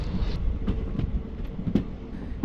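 A Palakkad Express train rumbles steadily along the tracks toward Palani, with faint rhythmic clicks of wheels over rail joints under a continuous low roar.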